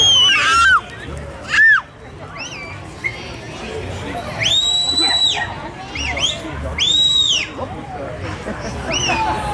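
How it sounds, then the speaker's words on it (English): A shepherd's whistle works sheep at an Irish fair, with several sharp rising and falling whistle calls, two of them long and held, cutting over steady crowd chatter and outdoor noise. "So I'm gonna use my whistle to bring the sheep around and show you how it works."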